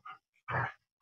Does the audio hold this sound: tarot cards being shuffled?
no